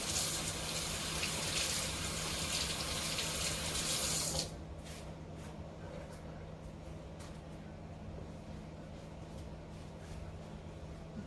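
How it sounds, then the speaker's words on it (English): Hands are washed under a running kitchen tap, a close steady gush of water that shuts off abruptly partway, leaving a low hum and a few faint clicks and drips. "Wash my hands."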